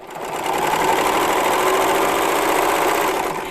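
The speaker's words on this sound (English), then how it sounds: "I'm just going to stitch in the air a little bit" A serger runs steadily for a few seconds, chain-stitching in the air with no fabric to form a long thread tail, a fast, even mechanical whir at constant speed, close by and alone.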